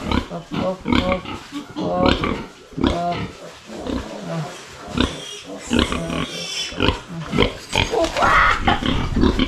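Breeding sows grunt and snort in a pig pen, loud and close, in bursts that come one after another. People talk over them.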